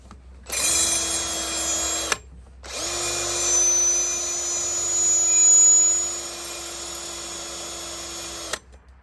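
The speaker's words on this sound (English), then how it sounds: "more drilling" A power drill whines steadily into metal in two long runs with a brief pause between them, close and loud with no talking, while removing a stripped exhaust manifold nut on a Mercedes.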